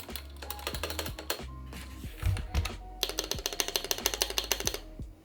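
Rapid mechanical keyboard typing on a Higround x 100 Thieves Basecamp keyboard, clicky and close, in bursts with a short pause, then a steady run of keystrokes.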